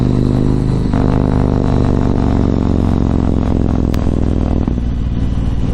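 A Yamaha MT-01 motorcycle is ridden on a commute to work, a loud, continuous deep engine rumble with rich throbbing harmonics, wind buffeting and a brief clatter, with no speech.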